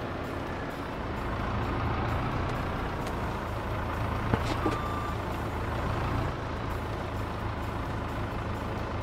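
Truck at the mill in Farming Simulator 22, with a steady engine rumble and repeated reversing beeps, plus a brief hiss partway through.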